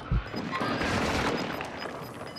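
RPK light machine gun fire in the shooter Warzone 2, a sharp close burst at the start followed by a dense, sustained wash of gunfire and battle noise throughout.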